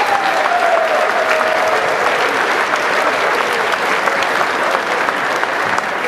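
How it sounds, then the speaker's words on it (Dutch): Hearty applause from festival spectators at the Winterswijk Volksfeest opening concert greets the KWV Corso Club orchestra, a steady, full crowd clapping that holds at even loudness for several seconds, with faint voices mixed in. "Een hartelijk applaus voor de Corso Club van KWV."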